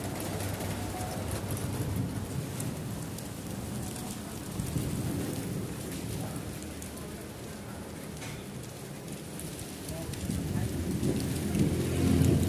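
Steady heavy rain falling during a thunderstorm, a dense continuous wash of drops with low rumbling underneath, swelling slightly louder toward the end.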